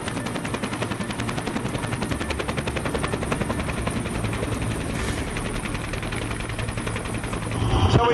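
A navy helicopter nicknamed Muttley flies close overhead, its rotor chopping loudly and steadily throughout, rising slightly in intensity near the end.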